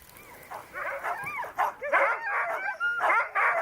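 Huskies pulling a dog sleigh in snowy Finnish Lapland bark, yip and whimper excitedly in quick overlapping bursts, loud and close.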